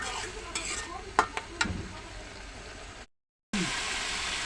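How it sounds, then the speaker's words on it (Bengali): Boiled fish frying with spices in a pan gives a steady close sizzle, punctuated by a few sharp clicks of a utensil against the pan, then cuts to a brief silence before the frying resumes. "এই যে এখন আমি মাছটা দিয়ে দিছি।"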